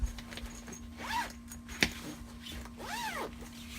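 A zipper runs along the pocket of a hard drone carrying case in several close, quick rasping pulls with short pauses between them.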